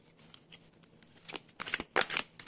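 Tarot cards shuffled and drawn by hand, faint soft rustles at first building into two louder, quick riffling bursts near the end, with no one speaking.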